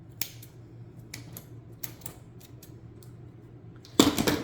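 Scissors snip through cord while a Christmas wreath is tied together: several faint, sharp clicks spaced irregularly over a quiet room, ending in a louder burst of rustling handling.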